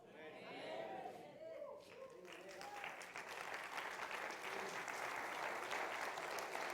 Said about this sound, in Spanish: Gloria a Dios que están aplaudiendo